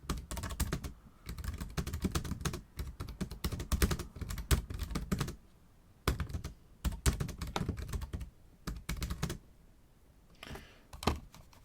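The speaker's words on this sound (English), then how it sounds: "But let's just see what the typing's like." Rapid clicking of keys on a computer keyboard, typed in quick bursts separated by short pauses, close and clear with no talking.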